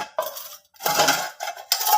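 A lid is set onto a cooking pot in a home kitchen, giving a few short metallic clatters and scrapes with brief pauses between them, close and moderately loud.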